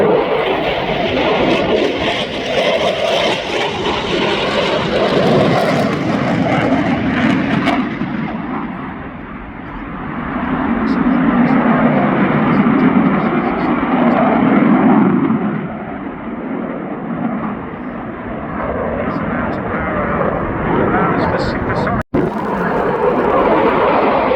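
A Eurofighter Typhoon jet fighter at the Southport airshow, its engines giving a loud, sustained roar that swells and fades as it passes, heard alone without talk.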